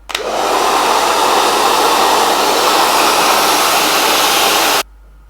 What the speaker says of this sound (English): Now I'm going to apply heat in the same section, but blow drying like so.